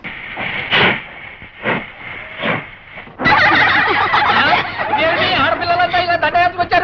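Near the start a voice speaks in short bursts, then a loud steam hiss bursts out from a train at a station and carries on under overlapping chatter.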